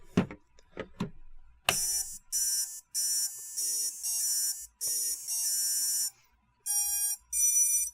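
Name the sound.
drone ESC startup music beeps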